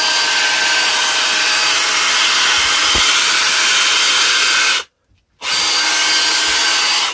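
A power drill fitted with a foam buffing pad polishes a Rega turntable plinth, giving a loud, steady whirring rush that cuts out briefly and then resumes.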